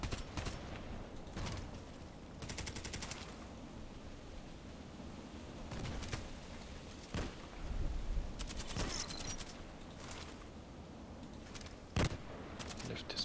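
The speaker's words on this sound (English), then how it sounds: "Again, it's such an interesting sound of the weapon." A weapon fires in a sniper video game as faint, intermittent bursts of rapid gunfire separated by quiet stretches, sounding somewhat distant and low in level.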